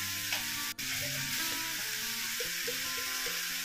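Dry prawns sauté in a pan with chopped tomato and kokum, a loud, close, continuous sizzle and crackle of frying with a single sharp click near the start.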